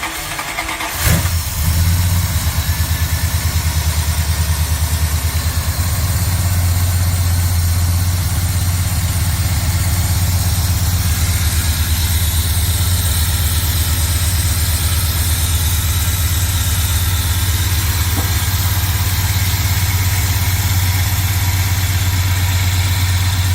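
Swapped Magnum 360 V8 in a truck cranks and fires, then settles into a steady, loud idle with an even rumble that holds for the rest of the stretch.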